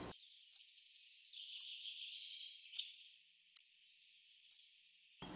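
Hawfinch calling, a series of five sharp, high, clipped 'tsic' notes spaced about a second apart over a thin high-pitched insect-like background; fairly close and clear, with no talking.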